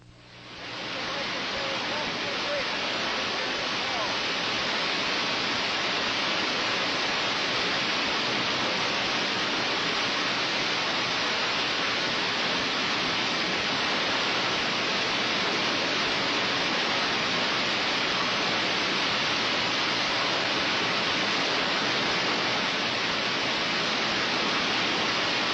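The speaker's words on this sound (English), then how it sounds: "the famous falls at Iguazu" The Iguazu waterfalls on the Brazil–Argentina border roar as a dense, continuous broadband rush of water, loud and unbroken throughout.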